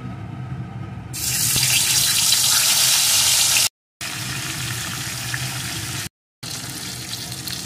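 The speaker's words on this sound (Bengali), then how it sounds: "এখন আমি ওই লবণ হলুদ মাখানো রুই মাছের টুকরোগুলোকে দিয়ে লাল লাল করে ভেজে নেব।" Rohu fish pieces coated in salt and turmeric frying in hot mustard oil, a loud continuous hissing sizzle that surges up after a quieter start and cuts out briefly twice.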